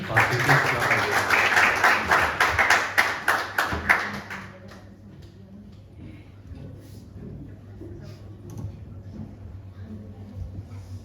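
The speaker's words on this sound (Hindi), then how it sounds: "आइए हम लोग एक बार ताली बजा के" A church congregation claps together for about four seconds, a loud, dense burst of hands that fades into a quieter hall with faint rustling and a few scattered sounds.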